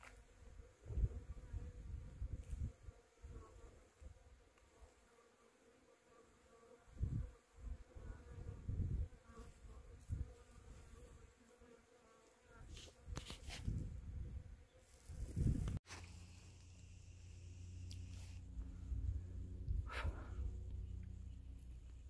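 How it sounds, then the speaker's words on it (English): Insects buzz along the Pacific Crest Trail, a steady outdoor drone of bees, wasps and flies with individual insects passing close in louder swells, continuing without talk for the full stretch. "Hear that buzzing?"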